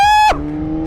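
A BMW S1000RR sportbike engine screams at high revs, then drops abruptly to a lower, steady rumble. It is very loud and close.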